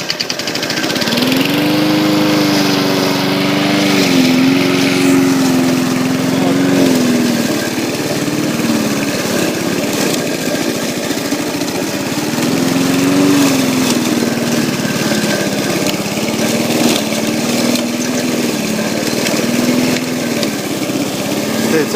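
Petrol lawn mower engine running steadily while cutting thick, dense grass, a loud continuous drone with slight dips in speed as it labours, close to the listener.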